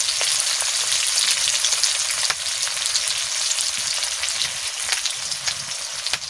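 Onion frying in hot mustard oil with panch phoron spices and bay leaf, giving a loud, steady, close sizzle and crackle that carries on throughout, with no talking.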